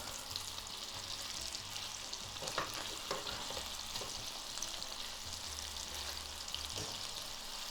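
Meat patties for a Polish dinner fry in a pan with a steady close sizzle, marked by a few clicks and scrapes as they are flipped, with no voices.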